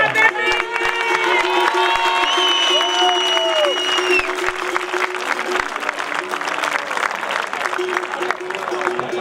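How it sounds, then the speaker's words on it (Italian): Dense, continuous applause and crowd clapping fill an outdoor Villacidro Skyrace 2018 award ceremony in Sardinia, steady for several seconds, with a loud amplified voice and tonal sounds running over the clapping. "un bel applauso a Milena e un applauso a tutto il suo team"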